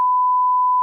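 Censor bleep covering a swear word: a single steady mid-pitched sine tone held loud and unbroken for just under a second, alone with no talk around it.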